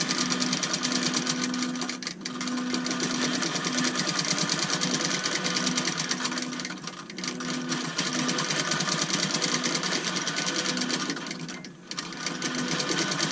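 A quilting machine stitches a feather pattern around a small circular motif on a purple quilt, a steady rapid needle whir running continuously, with a few brief dips in speed as it changes direction.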